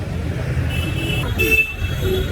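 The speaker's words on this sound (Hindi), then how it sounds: "हॉर्न सुन रहे हो, पी पी पी पी" Car horns honk in short tonal bursts on a busy Kolkata street, layered over a steady wash of loud, close traffic rumble.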